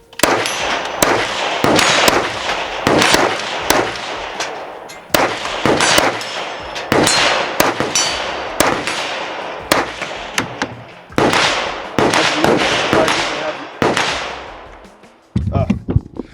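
Gunshots from a CMMG 5.7 Descent fired in a rapid series of sharp, loud cracks at a steady rhythm, each with a short ringing tail, ending in a few quieter clatters.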